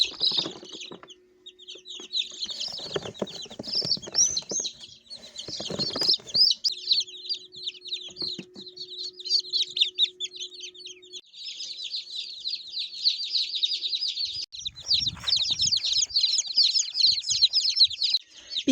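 Newly hatched meat chicken chicks peep and chirp in a dense, continuous chorus in a brooder, with brief handling rustles and a low steady hum running underneath.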